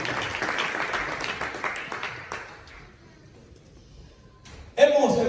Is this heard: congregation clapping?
yes